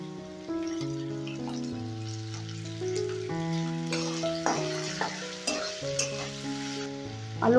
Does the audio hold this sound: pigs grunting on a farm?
no